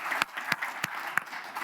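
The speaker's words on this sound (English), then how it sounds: "So big round of applause to all to Bob and his team." Faint, sparse audience clapping at a nuclear-energy presentation, a handful of distinct separate claps spread over under two seconds against quiet room noise.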